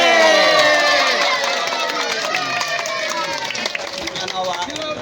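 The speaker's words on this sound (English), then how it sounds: "give him a round of applause" Community gathering in Wuro Giye, Kumo, where a crowd cheers and applauds: loud shouting and whooping voices over scattered clapping, lively and sustained, gradually easing slightly.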